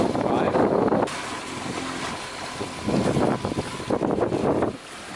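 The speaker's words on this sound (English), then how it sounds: "the wind has picked up a little bit" Steady wind rushes over a sailboat near the San Blas Islands, a close buffeting roar that swells and drops in gusts, with a voice speaking faintly in between.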